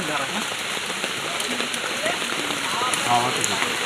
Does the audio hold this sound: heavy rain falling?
yes